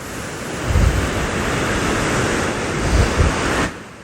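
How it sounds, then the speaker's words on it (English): Rolling ocean waves break onto a sandy beach, a continuous loud hiss and rumble with two swells building, fading out at the end, with wind noise on the microphone. "And the lovely rolling waves."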